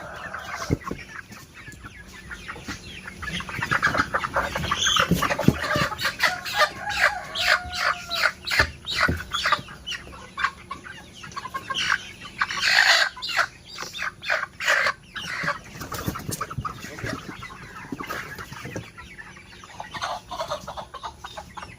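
Free-range chickens bred from barred and Rhode Island Red parent stock cluck and cackle in a repeated, busy stream of close calls, with occasional louder squawks amid farmyard noise.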